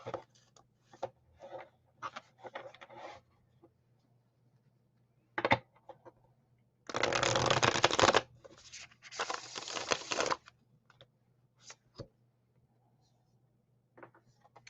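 Playing cards being shuffled, scattered soft riffles and flicks with two longer, louder riffle bursts in the middle, close by, with short pauses between them.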